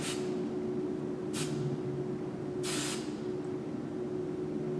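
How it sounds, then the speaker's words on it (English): Hairspray misted over the top pieces of a styled bang in two short hissing bursts, close and clear, with a quiet pause between them. "the top pieces of her bang, I'm literally just going to spray it"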